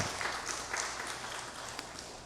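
Church congregation applauding during a Sunday worship service, a steady wash of clapping that fills the room without pause, moderately loud and spread out, with no voices over it.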